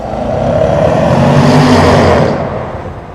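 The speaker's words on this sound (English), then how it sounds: "Noisy cars." A loud vehicle roars close by at the Port of Southampton, its engine noise rising to a peak and then fading as it passes.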